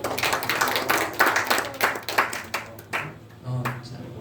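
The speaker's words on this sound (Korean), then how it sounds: "네, 박수" Applause in a church, with a loose patter of hand claps from a small group, close and uneven, fading out over a few seconds while voices talk underneath.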